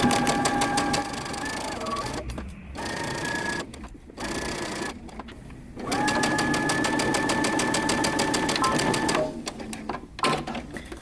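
A sewing machine runs a 5/8-inch seam along a dress sleeve, sounding in rapid, close mechanical bursts broken by several short pauses, with brief stops and restarts.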